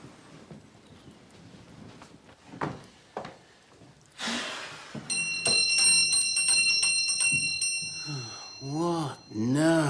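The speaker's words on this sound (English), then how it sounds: "Would you be good enough to pull the bell for me?" A household bell rung by pulling a bell pull in a period home jangles with a burst of bright, repeated metallic strikes midway, amid soft knocks and shuffling, and a voice follows near the end.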